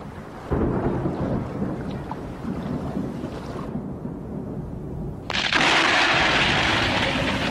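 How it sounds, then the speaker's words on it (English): A thunderstorm with rain over the Ethiopian highlands brings a steady roar of rain and rumbling thunder, swelling to a louder, sharper wash of rain near the end, with no voices. "Between June and September, storms rage over the high Ethiopian plateau."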